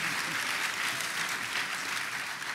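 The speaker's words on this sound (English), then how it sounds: "you can applaud that" A Comic-Con 2014 panel audience applauds, dense sustained clapping from a large crowd filling the whole short stretch at steady loudness.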